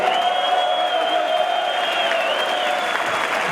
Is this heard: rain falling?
no